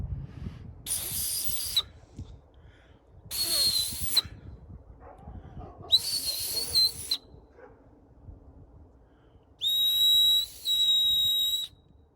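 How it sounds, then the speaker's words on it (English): Four shrill blasts from a yellow whistle separated by pauses, the last a steady two-part tone; dogs bark faintly in the background. "So we'll call this the new yellow whistle test."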